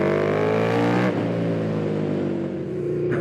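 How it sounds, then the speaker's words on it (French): KTM 1290 Superduke R 2020 motorcycle with an Akrapovic exhaust revs hard and close, a loud steady engine roar with rising harmonics that drops slightly after the first second and carries on strongly. "les motos font plus de bruit, celle-ci c'est vraiment un régal"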